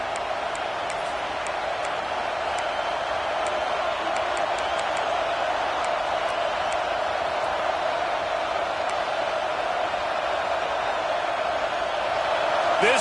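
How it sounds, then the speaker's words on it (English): Football stadium crowd at a college football game roaring steadily as a continuous loud wash of cheering, with scattered whistles above it throughout and no break in the noise. "This crowd knows this defense needs them right now."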